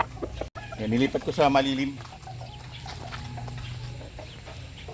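A Roundhead Grey gamefowl rooster gives a short burst of clucking calls close by outdoors, with someone speaking over and around it against a faint background hum.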